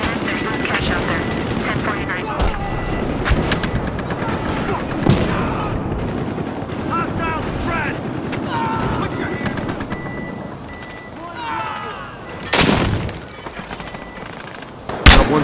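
Heavy gunfire in the police shooter Battlefield Hardline, bursts of automatic fire and loud shots mixed with voices talking over the action, with sharp blasts near the end.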